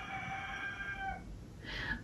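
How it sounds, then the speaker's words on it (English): A rooster crows in a drawn-out, harmonic call that breaks off, then a brighter squawking note follows, moderately close with steady background noise. "We were not supposed to have a rooster when we got chickens."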